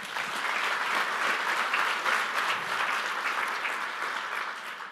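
An audience claps for Glenn at a real estate talk, a dense and steady round of applause that holds loud for the full stretch with no voices rising above it.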